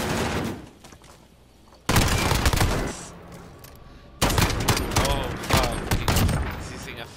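Bursts of automatic gunfire in Call of Duty Modern Warfare search-and-destroy play, loud rapid volleys in two main spells separated by quieter stretches, with a voice speaking underneath.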